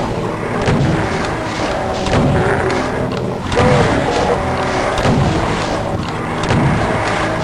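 Rockets fire and explode without let-up in a Doom map: dense, loud booms and blasts overlap across the whole stretch with heavy low rumble and no pauses.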